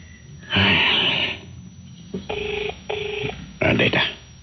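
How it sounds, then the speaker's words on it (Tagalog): Cellphone ringtone sounding in a repeated electronic ring pattern, several short tonal bursts spaced about half a second apart, loud and close, with a longer ringing burst at the start. "Nagre-ring si cellphone."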